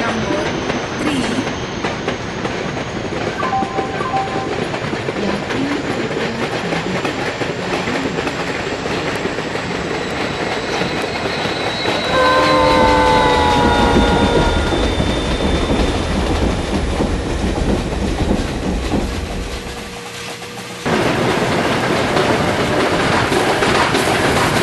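A WAP-7 electric locomotive hauls an Indian express train into a station platform in a train simulator game, with continuous rumbling and rolling rail noise, squealing wheels during braking, and a brief drop near the end before the rumble resumes.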